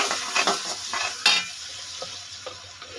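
Coriander, cumin and turmeric powder sautéed with ginger paste and green chilli, giving a close, steady sizzle broken by a few quick stirring scrapes and utensil taps, with no talking.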